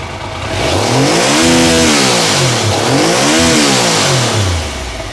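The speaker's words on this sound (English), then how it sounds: "As you can hear, I can get full rev range, although I have restricted it." A Triumph Sprint 900 motorcycle engine, rev-restricted, revs up and down twice, rising and falling in pitch, loud and close throughout with no talking.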